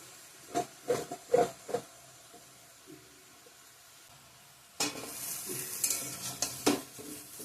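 Cut potatoes tipped into a pan for a mixed vegetable and dried fish dish: a few soft stirring knocks, then a sudden loud burst of close sizzling and hissing steam with scraping.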